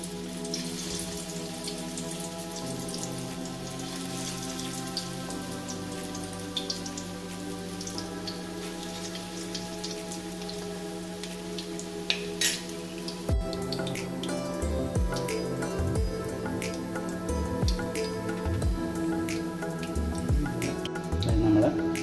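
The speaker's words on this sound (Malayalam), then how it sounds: "വെളിച്ചെണ്ണ ചൂടാക്കി അതിലേക്ക് ഇത് ഇട്ട് കൊടുക്കാം ഇത് ഓരോന്നായിട്ട് നമുക്ക് പാനിലേക്ക് ഇട്ട് കൊടുത്ത് നല്ലതുപോലെ ഒന്ന് വറുത്ത് കോരിയെടുക്കണം" Carrot cutlets frying in hot coconut oil in a pan, a continuous crackle and sizzle with fine popping spatters that grows busier and louder after new pieces go into the oil.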